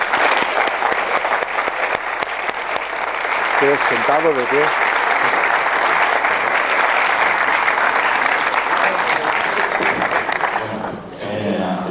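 A conference audience at a science congress gives a sustained double round of applause, dense clapping filling the room throughout, with a voice briefly speaking over it partway through.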